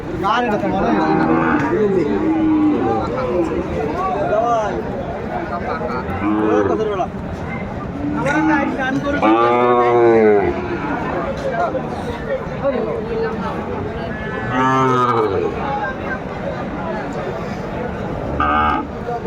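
Sahiwal breed cattle calves at a livestock market, several loud drawn-out moos rising above constant crowd chatter and people talking nearby.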